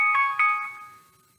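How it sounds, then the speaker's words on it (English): A phone alarm ringtone goes off, a bright repeating chime of two quick tones that rings out and fades within a second or so, heard alone. "That's my alarm."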